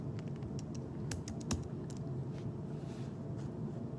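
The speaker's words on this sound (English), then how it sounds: "I'm just going to type in something here." Fingers type quickly on a computer keyboard, producing a quiet, irregular patter of clicks over a low background hum.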